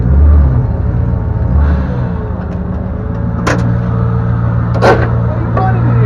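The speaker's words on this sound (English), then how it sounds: "So it's got a M90 supercharger" A car engine fitted with a side-wound M90 supercharger runs with a steady, close, low rumble, punctuated by a couple of brief, sharper bursts as it is blipped, while voices murmur faintly around it.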